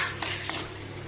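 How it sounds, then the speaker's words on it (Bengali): Vegetables are stirred in a hot pan just after the lid comes off, with soft, continuous frying sizzle and two or three quick scraping spoon strokes close by. "ঢাকা উঠিয়ে এবার একটু নেড়ে দিই।"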